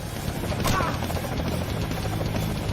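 Steady rhythmic thudding of helicopter rotor blades fills the scene, loud and continuous with a low engine rumble beneath.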